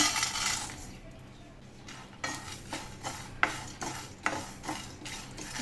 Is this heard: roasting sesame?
yes